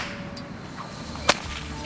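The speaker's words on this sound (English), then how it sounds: "a crack or two of the whip" A bullock driver's whip gives one sharp, sudden crack that stands out clearly against a faint outdoor background, with no voices heard.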